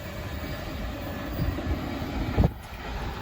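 A CSX freight train rolls past with a low, steady rumble and faint rail noise, and a brief louder clank near the end.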